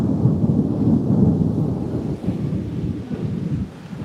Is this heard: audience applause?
no